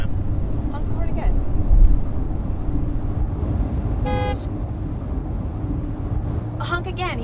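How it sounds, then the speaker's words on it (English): A car horn gives a short toot midway through, followed by another brief honk near the end, over a constant low rumble of traffic and voices speaking. "Honk the horn again."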